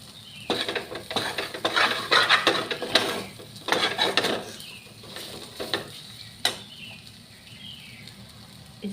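Potato filling for aloo kachori roasting and being stirred in a pan, giving a close, irregular run of scraping and clinking against the metal with a soft sizzle beneath, louder in bursts and then easing off.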